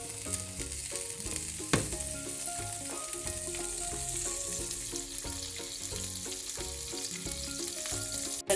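Ghee and butter sizzling together in a hot pan for paneer butter masala: a continuous, even crackling fry, close and steady, with scattered pops and a sharper clatter once partway through.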